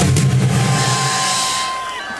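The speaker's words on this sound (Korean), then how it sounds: "김학생 교수님도 뜨거운 박수를 보내시기 바랍니다." An audience at an outdoor Liberation Day rally at Seoul Station bursts into loud applause and cheering, a thick wall of clapping that slowly fades toward the end.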